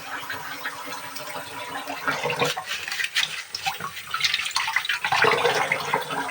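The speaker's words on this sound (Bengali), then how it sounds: "তার আগে আমি তেজপাতাটাকে ধুয়ে নেব" Bay leaves being rinsed under a running kitchen tap, a steady close wash of splashing water that grows louder and fuller toward the end, with no voices.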